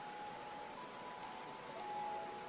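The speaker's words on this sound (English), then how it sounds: "It's raining, everybody. Let's see how the parasol interacts with rain." Rain falls in a VR MMORPG game world, a faint steady hiss of drops with a soft tonal hum beneath.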